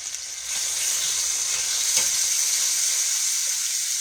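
A thick pork chop fries in a small pan, giving a steady, close crackling sizzle with a faint stir or shift partway through; no one speaks.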